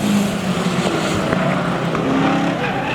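Chevrolet Blazer and Camaro race cars running head-to-head at a spectator drag racing championship, a loud, continuous engine roar with broadband racing noise and faint tire sounds, close and unbroken throughout.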